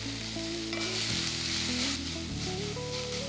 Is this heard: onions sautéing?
yes